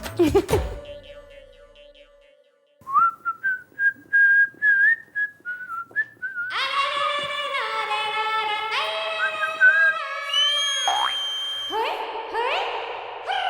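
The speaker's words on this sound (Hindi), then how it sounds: "एक बार तेरे साथ सीटी बजा के बात क्या की तो रोज चालू हो गई।" A man whistles in place of words in a TV comedy scene, giving long held tones, then choppy rising phrases, then bright melodic warbling that bends up and down. The whistling is loud and close, with no speech.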